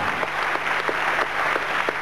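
Studio audience applauding the four remaining contestants on a 1991 French TV quiz show, a steady dense clapping wash sustained throughout, moderately loud with no voices on top.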